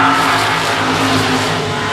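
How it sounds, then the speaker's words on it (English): Street stock race cars roar around the Shady Oaks Speedway oval on the final lap, a loud, dense, unbroken engine drone filling the air with no voices on top. "Meanwhile, into turn 3, out of turn number 4, white flag, one more lap around the 53 of Oaks."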